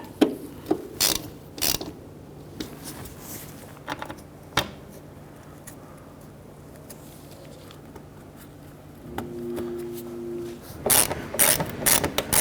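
A ratchet clicks in quick bursts while snugging screws on the windshield cowl of a 1997-2006 Jeep Wrangler, close and crisp, with quieter pauses and a brief low mechanical whir between the turns.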